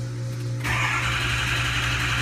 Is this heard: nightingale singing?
no